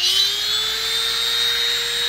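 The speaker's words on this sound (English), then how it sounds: "I'm going to drill this hole right here because it's enclosed" A Dremel rotary tool drills a hole into amethyst rock, giving a loud, steady high-pitched whine that holds without pause and rises slightly in pitch as it runs.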